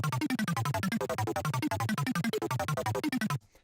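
A fast, bright synthesizer arpeggio rapidly cycles through notes in an even rhythm, with occasional higher notes jumping out before it cuts off abruptly.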